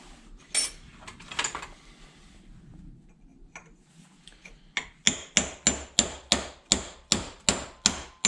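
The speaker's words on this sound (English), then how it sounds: "I'm just slowly chipping away at this aluminum" A hammer chips at aluminum on a cheap forklift under repair. Scattered knocks come first, then a steady run of sharp metallic clanging strikes, close up and evenly paced.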